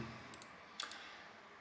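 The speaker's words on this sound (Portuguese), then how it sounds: "Vou só dar aqui alguns cliques na nossa tela." Two pairs of quick, crisp mouse clicks close by, faint and separated by a short pause, over a quiet background hum.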